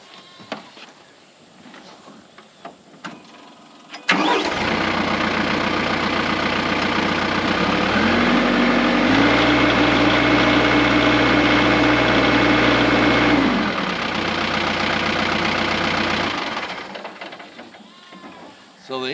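A TYM 4815h compact tractor's diesel engine cranks and catches, then idles loudly with a steady rumble, briefly rising in pitch before settling and fading away.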